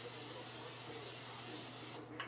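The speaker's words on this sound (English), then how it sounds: "I'm going to use a little bit of Pam and spray in here" Pam cooking spray hisses into a skillet in one continuous close burst of airy spray lasting about two seconds, then stops abruptly.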